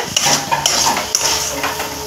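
Metal utensils clink and scrape against a pan while fried dried-fish fritters are lifted out, a handful of sharp, close taps and rattles spread unevenly over a soft sizzle.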